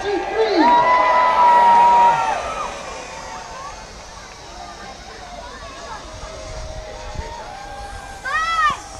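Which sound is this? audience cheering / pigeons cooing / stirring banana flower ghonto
audience cheering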